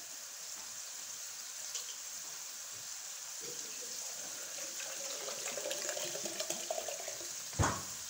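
About one and a half cups of water are poured into a pan of beef charsi karahi, giving a steady, moderately quiet splashing rush that builds slightly and ends with a brief sharper burst.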